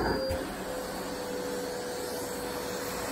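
A vacuum cleaner operated by a child hums steadily and evenly throughout, a constant motor drone with a faint high whine and a brief click at the start, with no voices.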